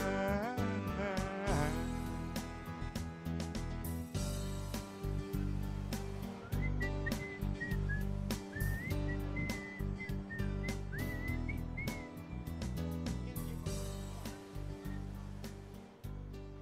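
A person whistles a bright melody over a loud backing song with drums, the whistled notes rising and falling in short phrases.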